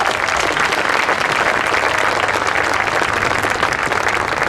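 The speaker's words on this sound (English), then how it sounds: "Please give another round of applause for Colton, Logan, Kylan, and Kylie." A large crowd at a high school graduation claps steadily and densely, loud and sustained, with no pauses or voices standing out.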